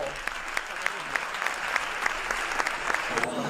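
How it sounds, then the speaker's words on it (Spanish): A small crowd at a sports awards gala in Teatro Avenida, Jaraíz, applauds steadily, with distinct, evenly paced claps that continue for a few seconds. "Mención especial, un aplauso para Juan Diego Valverde Pizarro."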